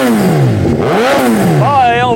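A warm 2015 Suzuki GSX-S1000 with a Yoshimura R11 exhaust is blipped up and down in loud, close revs, its pitch swooping rapidly between throttle bursts.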